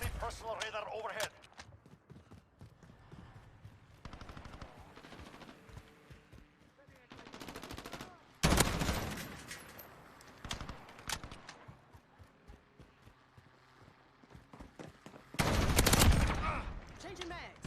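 Gunfire in the video game Call of Duty Modern Warfare: scattered shots and rapid automatic bursts, with two loud sustained volleys standing out amid quieter stretches and background game noise.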